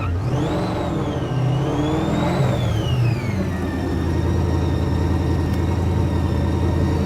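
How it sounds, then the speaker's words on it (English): A Formula Drift Nissan 350Z with an LS3 V8 swap revving hard, its engine note sweeping up and down in loud rising and falling waves before settling into a sustained high, rough roar, close and alone. "he should be bringing his car into the frame right now"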